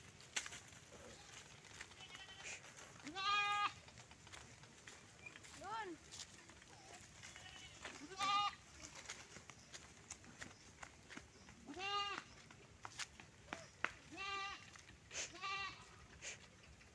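Goats being herded in a rural province bleat repeatedly in short wavering calls about every two seconds, some near and loud, others softer, over faint background with occasional brief human sounds.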